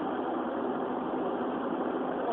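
Steady engine drone inside a car cabin while driving at around 90 km/h with poor sound insulation, a constant loud low rumble and road noise with no break.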